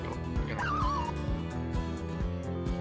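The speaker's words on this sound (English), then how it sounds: "Yeah, it's my chihuahua." A chihuahua yips and whimpers close by, a short high cry rising and falling over a steady background of rhythmic music.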